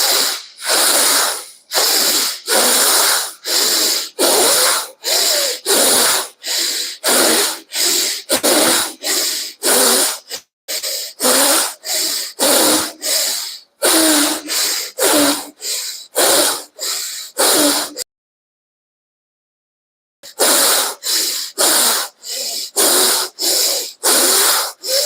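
Rapid rhythmic yogic pranayama breathing for the Manipura chakra, loud sharp hissing breaths through the mouth repeating steadily for about eighteen seconds, then a pause of silence before the hissing breaths resume.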